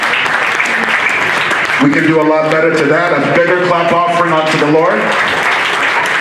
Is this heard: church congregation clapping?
yes